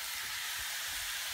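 Shaggy ink cap mushrooms fry in a pan with a steady, bright sizzle and hiss, close and continuous, with no one speaking.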